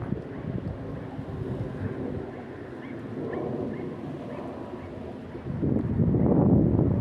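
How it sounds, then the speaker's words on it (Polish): Strong wind gusting outdoors where young racing pigeons are making their first flights, a steady low rumbling roar buffeting the microphone that swells louder toward the end, with no talking. "Za mocno wieje, za lekkie takie powietrze jest na takie pierwsze loty dla tych młodych."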